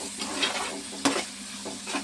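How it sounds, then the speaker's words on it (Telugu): Tomatoes, onions and green chillies for a tomato fish curry sizzling and frying steadily in a pan, close up, with a spoon stirring and a brief knock against the pan. "టమాటాలు, ఉల్లిపాయలు, పచ్చిమిరకాయలు బాగా మగ్గాలి."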